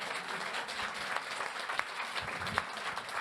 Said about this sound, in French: Ne m'applaudissez pas trop